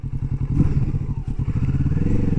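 A Kawasaki Vulcan S motorcycle on a test ride, its engine a loud, steady, close low thrum with a rhythmic pulsing beat, lifting slightly in pitch partway through.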